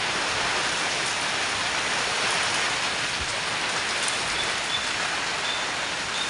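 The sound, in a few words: rain falling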